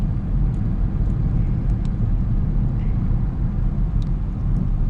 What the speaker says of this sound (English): Road noise in this car is not bad.